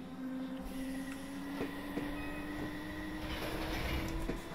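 A London Underground D-stock train in Train Simulator pulls away from a station, giving a steady mechanical hum with a sustained tonal whine, a few sharp clunks and a rising rumble near the end.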